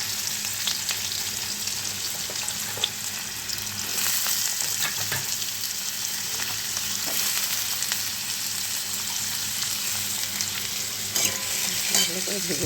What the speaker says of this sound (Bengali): ভালো করে ভেজে নেব, আলু ভেজার মতো করে।